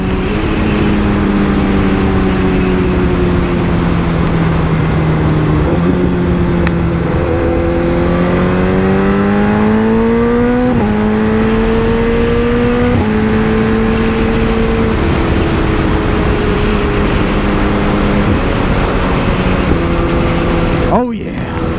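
A loud, nearby BMW S1000RR motorcycle fitted with a Brock's full exhaust drops through a couple of downshifts, the engine pitch jumping up and falling with blipped revs, then cutting off abruptly at the end.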